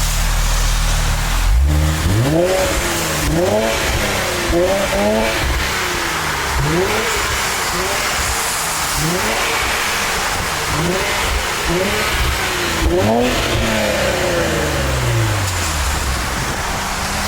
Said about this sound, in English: we're going to bring it down and give it some revs for you